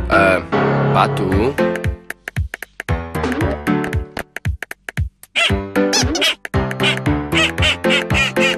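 A cartoon duck from Pocoyo quacks again and again, loud and close, in quick uneven bursts with short pauses between calls.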